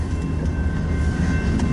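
A train rolls past while recorded from inside a parked truck cab, a steady loud low rumble of rail cars with faint rhythmic clatter and a thin high whine running through.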